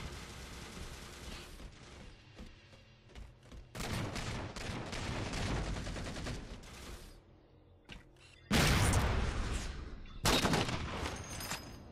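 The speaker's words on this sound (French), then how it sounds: "Oh, la balle de snipe." Sniper rifle fire in the video game Halo on the map Haven, with sharp gunshots cracking out amid a dense, noisy mix of weapon fire, bursts and game effects, the loudest blasts landing near the end.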